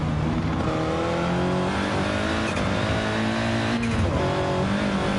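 On-board engine of a race car in a PS4 racing game, chasing another car, a loud continuous high revving drone with rising and falling pitch through gear changes and corners, no talk.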